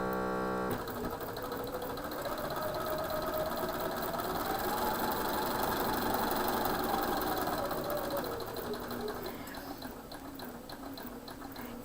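A sewing machine runs steadily as it stitches quilt pieces for flying geese blocks, a continuous mechanical whir and rapid needle chatter that holds for about ten seconds, then slows and stops.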